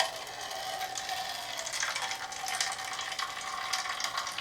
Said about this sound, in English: So I'm zeroing it with the cup on there, and then I'll submerge my lure in there.